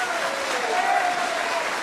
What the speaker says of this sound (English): Let us bring him on with a round of applause